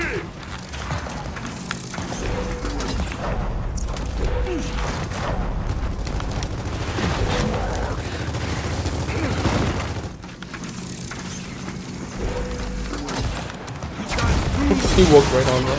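Gunfire and heavy impacts from the Torque Bow weapon in Gears of War 4 play as repeated bursts and booms over game music and effects, continuous and fairly loud throughout.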